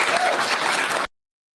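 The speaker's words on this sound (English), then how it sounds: "all the minions started clapping there, as you see" A crowd applauds at a political event, a dense wash of steady clapping that continues for about a second and then cuts off abruptly into silence.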